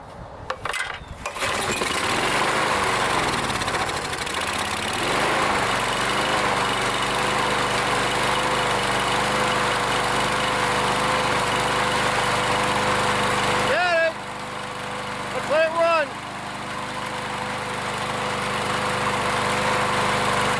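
Lawn mower engine pulled over with oil still in the combustion chamber, catching and running at a steady loud idle throughout, with brief dips and a couple of short whistling tones near the end.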